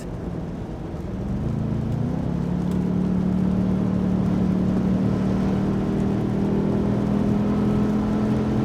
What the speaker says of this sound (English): I am driving a B6 V8 S4 commuter car through the farm country of Northern California